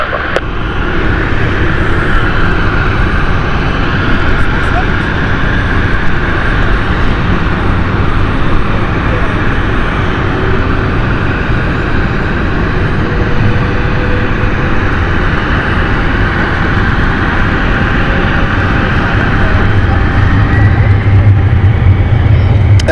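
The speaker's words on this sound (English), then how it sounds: "Taking off at this moment in time is the Glasgow flight." A passenger jet takes off from London City Airport, its broad engine roar steady and loud throughout and swelling slightly near the end as it climbs away.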